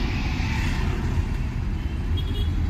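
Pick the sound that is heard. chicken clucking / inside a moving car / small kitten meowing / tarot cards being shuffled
inside a moving car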